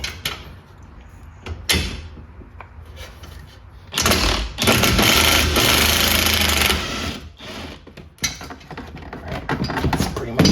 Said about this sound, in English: I'm gonna use the power tool